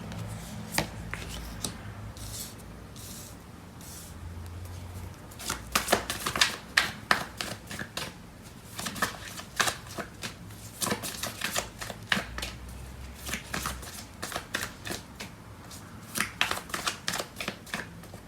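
Tarot cards are shuffled and tapped in quick, crisp bursts of close riffling and clicking, broken by short pauses, with no talking.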